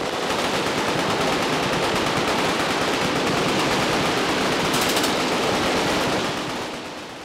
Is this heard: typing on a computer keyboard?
no